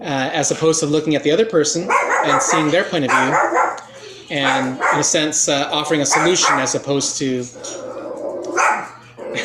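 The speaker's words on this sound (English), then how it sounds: "sorry about the dog" A dog barks repeatedly nearby, fairly loud and frequent, beneath someone talking steadily.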